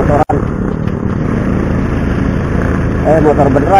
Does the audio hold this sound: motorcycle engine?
yes